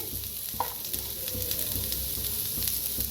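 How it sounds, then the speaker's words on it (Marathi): Onion and ginger dry-roasting without oil in a pan on a gas stove, a steady close sizzle with light scraping stirs and occasional clinks, no voices. "गॅसवर ठेवलाय पॅन तर कांदा भाजून घेऊया त्याच्यातच टाकूया अद्रक बी"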